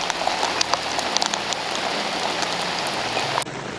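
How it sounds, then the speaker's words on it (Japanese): Heavy downpour drums densely on surfaces at a remote mountain lake, Ginzan Lake in Niigata, a loud unbroken hiss of rain with scattered sharper drop impacts. "さっき土砂降りだよって言って、またさらに強くなった気がします。"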